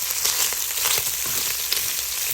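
Bacon sizzling steadily in a frying pan during a home breakfast cook, a dense continuous crackle with small pops scattered throughout, close and fairly loud with no talking.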